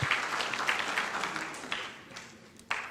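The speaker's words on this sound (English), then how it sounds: "How about a round of applause for the visionary" Applause from a gala crowd, a dense patter of many hands clapping at moderate volume that gradually thins out.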